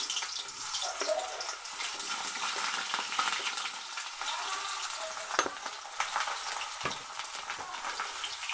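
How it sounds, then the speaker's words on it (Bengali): Potatoes frying in oil in a kadai for a vegetarian kuwash ghonto, a dense, steady sizzle with a watery hiss and occasional stirring knocks, heard close with no talking. "আলুগুলি একটু ভেজে নেব।"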